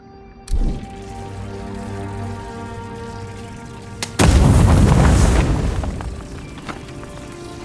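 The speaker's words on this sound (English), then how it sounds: "Let's throw a grenade at that." A grenade goes off against a breakable wall in the Avowed video game: a thump lands first, then after a few seconds a big booming blast swells and rumbles for about two seconds before fading into a quiet ambient bed.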